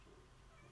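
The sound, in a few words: cat meowing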